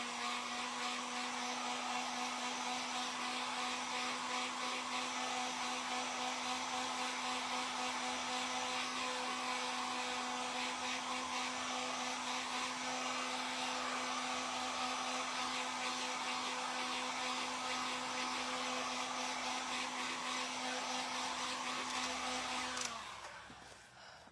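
A hair dryer blows steadily and loudly on stamped book pages to dry the ink, a constant whirring drone with a strong hum that runs unbroken for over twenty seconds before cutting off abruptly near the end.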